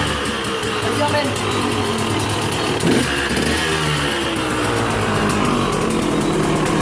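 A KTM two-stroke motorcycle engine runs steadily and loudly close by, a dense continuous buzzing drone with a slight rise partway through.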